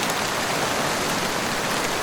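Heavy rain pours steadily during flooding in Spain, a dense continuous hiss of drops striking surfaces, loud and even with no pauses.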